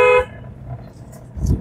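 A single short, loud car horn toot up close during a driving lesson, followed by a low engine rumble.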